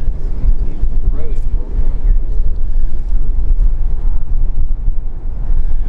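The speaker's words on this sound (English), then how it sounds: "Very windy day today." Gusty wind buffets the microphone with a constant low roar and rumbling bursts, a voice faintly mixed in beneath.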